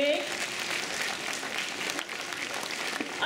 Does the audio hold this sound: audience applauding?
yes